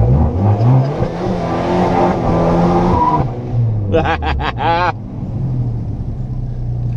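A car engine revs and roars loudly in short bursts, with a sharp higher-pitched squeal-like rise midway, close to the listener.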